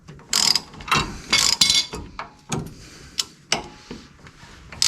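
A hand ratchet clicks in short bursts, close and clear, as a bolt on a Rough Country 6-inch lift kit for a 2004 Ford F150 is tightened, with uneven strokes and brief pauses between them.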